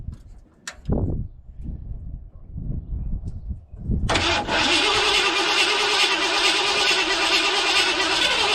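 A 1986 Ford F250 with a 351 Windsor V8, freshly reassembled after an engine pull, clicks and thumps a few times. Then the starter cranks loudly and steadily for several seconds, struggling on a weak battery without catching.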